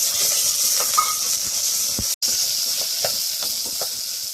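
Fenugreek leaves hit a hot tempering for a tur dal and methi varan, giving a steady, close hiss and sizzle with a few faint clinks and a brief cut partway through.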